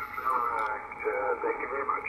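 Audio from a Yaesu FTdx5000MP ham radio receiver with its noise blanker in wide mode plays a steady stream of distorted received voice, muffled and harsh with a constant noisy edge.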